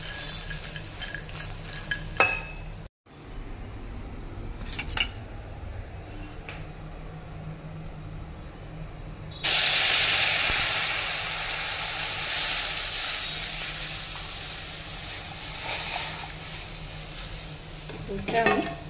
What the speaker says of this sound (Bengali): ঘি দিয়ে মাখনাটাকে অল্প ড্রাই রোস্ট করে কড়াইয়ে ঘি দিয়ে কাজু কিশমিশ আর মাখনা একসাথে